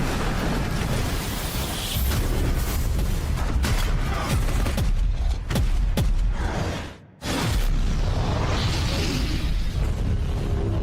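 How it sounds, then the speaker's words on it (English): Disintegrator cannons firing in a Horus Heresy Warhammer battle scene set in the drop site massacre: loud, dense volleys of booming blasts and cracks in rapid succession, briefly dropping out before the barrage resumes. "Disintegrated cannons going off."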